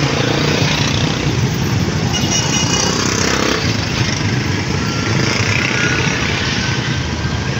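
A homemade three-wheeled motorcycle engine runs loudly and close, a steady rough buzzing drone with no talk over it.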